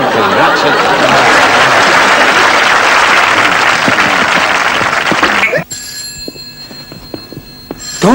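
A telephone rings on a comedy record, its repeated bell tones coming in sharply after loud audience applause and laughter die away.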